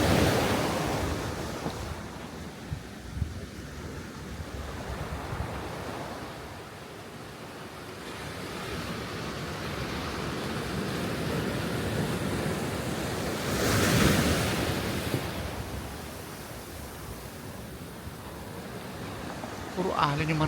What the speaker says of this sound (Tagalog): Ang maririnig mo lang yung palo ng alon.